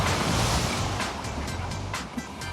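Heavy ocean surf at Bondi Beach, a loud continuous roar of breaking swells with wind buffeting the microphone, steady throughout with no voices.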